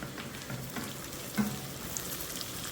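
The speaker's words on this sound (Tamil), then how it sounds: "நல்லா ப்ரௌன் கலராக வதங்குது பாருங்கள்" Onions and masala frying to brown in a pan for Chettinad mutton kulambu, a steady close sizzle with faint stirring scrapes.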